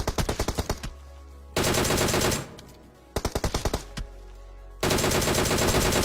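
Rapid bursts of automatic gunfire in PUBG Mobile, loud and close, alternating with sustained heavy firing and short gaps, repeating over several seconds.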